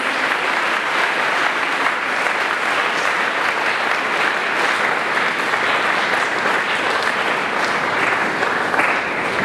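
Sustained, even applause from a crowd at a gospel gathering, a dense wash of clapping holding steady throughout with no talking on top.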